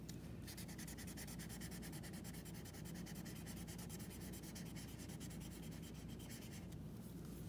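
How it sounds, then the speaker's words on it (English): A pencil-shaded drawing on paper is blended with a tool in rapid back-and-forth strokes, making a faint, steady, close scratching rub that continues throughout. "It's like good for blending without picking up too much of the graphite from the paper."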